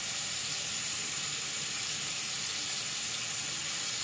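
Makeup brush rinsed under running tap water at a sink, a steady broadband rush of water flowing continuously, close and fairly quiet.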